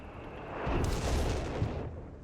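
Light 2-inch mortars fire in Company of Heroes 3, a single muffled boom swelling into a rumbling blast that fades out over about two seconds.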